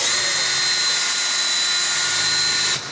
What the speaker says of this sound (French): on fait l'avant-trou.